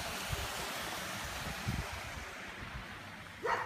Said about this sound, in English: Alex, there's the waterfall.